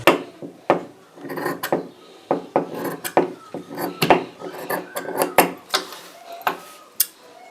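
Scissors snip through fabric being cut for a hand sleeve, a run of sharp, close crunching cuts in an uneven rhythm with short gaps, plus small handling clicks and rustles.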